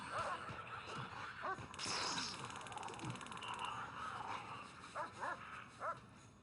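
A guard dog in the prison game Prison Architect gives a run of barks and yips amid the clatter of a fight, followed near the end by a few sharper barks.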